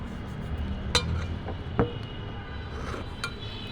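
Cooked dried fish is moved into a bowl in a home kitchen: a few sharp, separate clinks of dishes and utensils ring out at irregular intervals over quiet scraping and handling noise.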